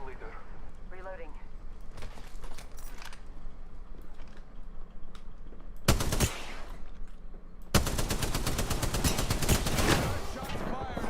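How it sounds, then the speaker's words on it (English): Rapid automatic gunfire in a battle royale video game, with scattered shots early, then two dense bursts, the second long and sustained, and voices talking over the fighting. "Shots fired and they're hitting me."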